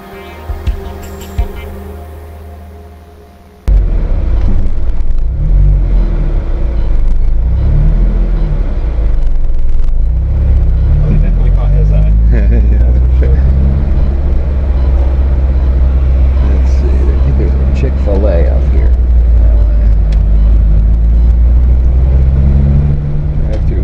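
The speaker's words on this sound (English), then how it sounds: "I'd like to take you on a quick test drive" Custom-built Extra Terrestrial Vehicle concept car on a test drive, a loud continuous engine rumble and road noise heard from inside after a quiet start, steady with slight surges.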